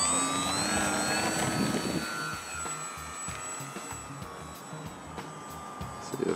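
A small electric foam model airplane, a Flite Test Simple Storch on an underpowered 2-cell battery, whines overhead with a thin steady motor tone that fades slightly as it flies farther away, no talking.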